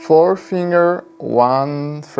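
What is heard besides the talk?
No everyday noise stands out behind the speech.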